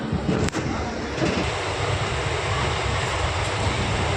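A train rumbles along the tracks, a loud continuous roar with a sharp clack near the start and no talking.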